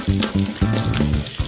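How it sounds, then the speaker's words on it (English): A toy grill sizzles as a pretend meat patty cooks, a short run of buzzy, tonal electronic crackling pulses repeating in quick bursts, close and fairly loud. "First, we need to cook the meat patty."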